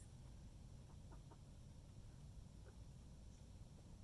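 Chickens cluck softly and sporadically on a farm, a few short, faint calls scattered over a steady low background rumble.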